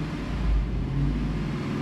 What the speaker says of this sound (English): Watch this, we give it some throttle.